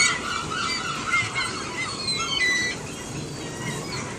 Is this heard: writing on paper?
no